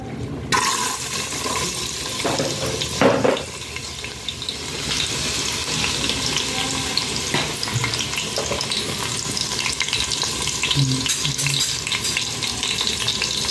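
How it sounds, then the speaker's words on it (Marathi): Chopped onion dropped into hot oil in a home kitchen pan while cooking egg bhurji rice, giving a loud, continuous sizzle with a sharp burst early on and occasional stirring noises. "त्यामध्ये आपल्याला आता इथं कांदा टाकायचा आहे"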